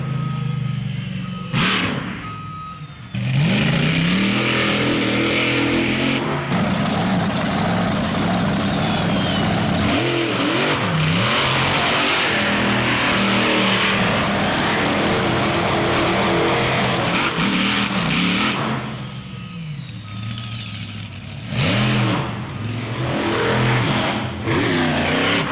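A monster truck at a state fair roars close with loud engine revving and acceleration, its pitch rising and falling through repeated throttle surges over a long stretch.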